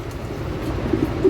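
Andalusian pigeons coo softly in a loft, a low, throaty murmur running steadily and close for a brief moment, with no voices.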